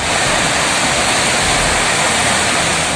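The Periyar river in Kerala, flooded after heavy rain, rushes as a loud, steady, dense roar of churning water that fills the whole stretch with no pauses and no voices.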